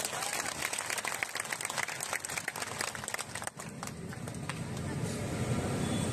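A crowd applauds loudly at a political speech in Akluj, a dense, continuous wash of clapping that stays steady throughout with faint background voices.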